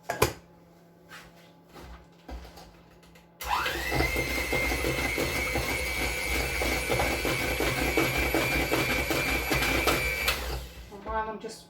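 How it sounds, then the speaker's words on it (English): Steady electric mixer whirring through cookie dough in a home kitchen, starting abruptly after a few seconds of quieter clatter and running loud and continuous for about seven seconds before stopping. "I'm just going to finish off the whisking"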